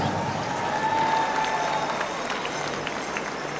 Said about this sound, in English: Let's give these other dancers here a round of applause.